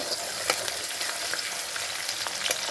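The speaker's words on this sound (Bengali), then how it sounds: "কাঁচা লঙ্কা দিয়ে একটু নেড়ে নেব" Green chillies fry in a pan, giving a constant bright sizzle with occasional soft stirring scrapes.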